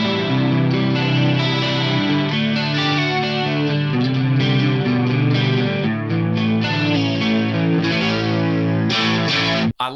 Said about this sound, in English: This is the Dimension 1 chorus on here.